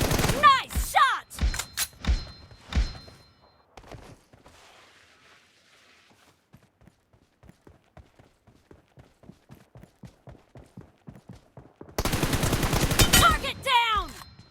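Gunfire in a 1v1 video game match: loud bursts at the start, then a long run of quieter, evenly spaced shots, ending in a dense loud burst, with voices talking over parts.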